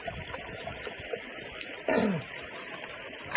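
Water poured from a vessel into a cooking pot set up for boiling at an outdoor riverside cooking spot, a short splashing pour lasting about a second over steady background hiss.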